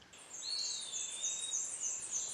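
Birds calling around a house where birds nest at both entrances, a run of high, thin chirps and whistled notes with a rising tonal call, close and clear over quiet background.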